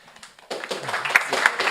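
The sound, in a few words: audience applause at a conference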